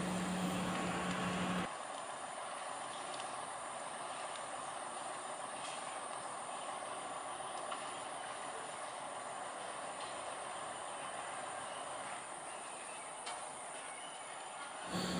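A sugar cane railway locomotive runs through floodwater over a submerged track, a steady broad rumble and wash of water that holds constant throughout, with a sharper burst at the very start.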